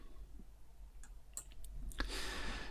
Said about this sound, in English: clicking and dragging.